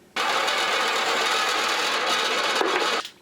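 A metal part for a compressor trolley being bored out with a power tool, one steady, loud, continuous whir that holds for about three seconds and then stops.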